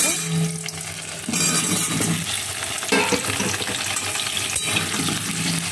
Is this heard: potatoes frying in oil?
yes